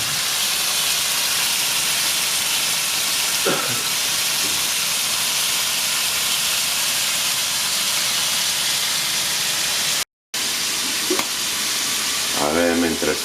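Vegetables sizzle in a hot pan over high heat with no oil in the middle. The frying hiss is loud and constant, with brief stirring scrapes and a short break near the end.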